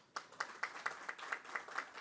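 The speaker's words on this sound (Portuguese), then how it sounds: "peço uma salva de palmas ao governador Lúcio Alcântara" Faint, distant audience applause for governor Lúcio Alcântara at the opening of a symposium, heard as about eight evenly spaced, rhythmic claps across two seconds.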